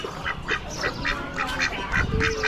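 Ducks quack in a rhythmic series of short, nasal calls at an Amish animal auction, fairly close, with faint crowd murmur and barn noise underneath.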